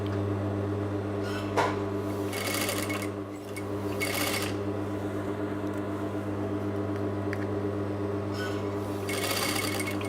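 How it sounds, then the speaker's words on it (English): A sewing machine runs steadily close up while stitching a rounded lined pocket, holding a constant mechanical hum and whir with brief louder rattling surges along the way. "Just going to finish off with a back tack, making sure the pulley is at the top, raising the presser foot"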